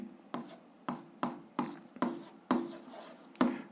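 A pen writing an algebra equation on paper, a series of about eight quick scratchy strokes in an uneven rhythm, close and quiet, with no voices.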